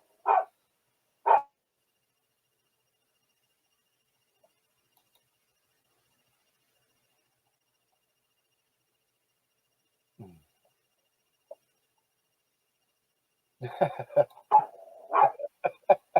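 A dog at home barks excitedly in short bursts, two sharp barks near the start and then a rapid flurry near the end, heard faintly through a phone call with long quiet gaps between.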